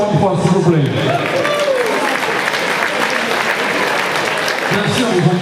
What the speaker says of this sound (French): je voudrais qu'on les applaudisse encore une fois